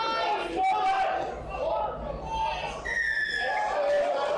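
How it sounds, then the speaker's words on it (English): A referee's whistle at a Barrow Raiders versus Featherstone Rovers rugby league match, with short shrill blasts cutting through the steady roar and chatter of the stadium crowd. "the referee blows his whistle this time"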